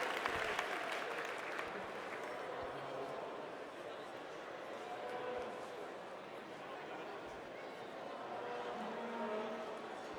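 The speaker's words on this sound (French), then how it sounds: "vous pouvez les applaudir bien fort" Applause from a crowd at a Salers cattle show competition, a steady broad patter of many hands lasting throughout with background voices and some event noise mixed in.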